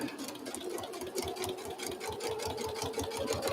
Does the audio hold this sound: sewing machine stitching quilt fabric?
yes